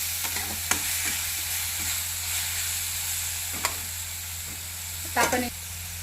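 Green chillies fry in hot oil for a potato curry, a steady close sizzle with occasional sharp scrapes and taps of a spoon stirring the pan.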